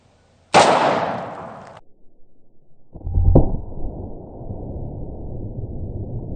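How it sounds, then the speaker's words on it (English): A Smith & Wesson pre-Model 27 revolver from 1953 fires a Remington 158-grain semi-jacketed hollow point into a donut: one loud sharp report, a pause, then a second crack followed by a sustained noisy rumble. "Let's shoot the donut with the Remington 158 grain semi-jacketed hollow point"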